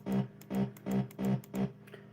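Slowed-down, squat hardcore-style bass from an FL Studio production plays alone, five heavy rounded hits pulsing in an even rhythm, loud and close with a distorted, buzzy low tone.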